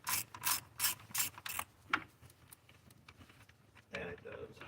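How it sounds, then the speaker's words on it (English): A hand ratchet loosens the bolts on an engine intake, giving several quick bursts of close, crisp clicking with brief pauses between them, and a voice comes in partway through. "And I'll start undoing the intake bolts."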